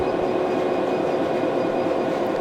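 A Class 66 diesel locomotive in Train Sim World 3 hauls wagons around Hoo Junction on a foggy day, giving a constant droning engine hum with a faint steady whine, unbroken and fairly close.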